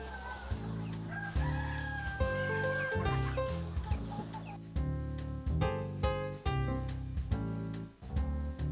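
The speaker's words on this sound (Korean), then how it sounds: "저 보시다시피 닭들은 저렇게 건강하게 크죠." Native Korean chickens in a farm coop call out loudly and close by, with repeated crowing and clucking phrases rising over a steady musical background.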